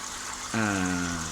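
Water swirls in a small shrimp aquarium's vortex flow system, a soft continuous trickle that turns into a brief humming, tonal gurgle midway, faint and close.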